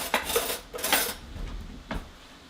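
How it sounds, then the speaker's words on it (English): Carrots with brown sugar and cinnamon are stirred in a pan, giving a few clattering scrapes and clinks of a metal utensil against cookware in irregular bursts. "And then I'm going to stir"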